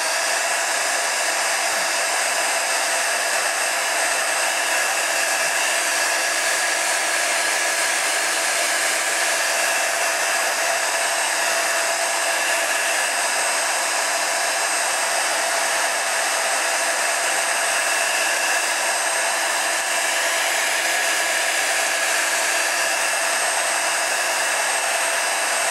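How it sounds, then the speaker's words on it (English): A heat embossing tool blows a constant, loud, even hiss of hot air for a long stretch, with no pauses and no voices. "Now I'm going to heat emboss."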